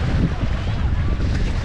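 Strong wind blowing hard across a sea beach at a Hurghada resort in Egypt, a loud continuous roar buffeting the microphone, with surf and waves mixed in.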